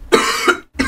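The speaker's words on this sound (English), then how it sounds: "I think I just went on like a coughing spree or something" Coughing from a man close to the microphone: two sharp, loud coughs in quick succession, then a brief pause and a third cough starting.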